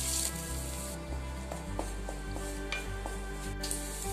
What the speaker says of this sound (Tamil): வெங்காயத்தை ஒரு 2 நிமிஷத்துக்கு வதக்கிக்கறேன்.